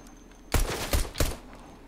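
Gunfire in the Fortnite video game on a mercenaries survival map, three sharp shot bursts in quick succession over a faint background tone.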